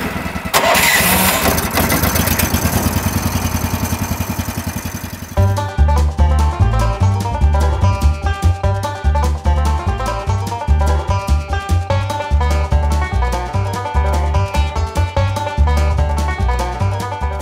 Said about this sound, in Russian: Второй буксировщик у нас в этой поездке, можно сказать, уникальный, с двигателем Yamaha